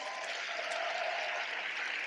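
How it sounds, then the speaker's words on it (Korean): Audience applause, a steady even wash of clapping at moderate level throughout. "여러분들이 박수 치는 동안"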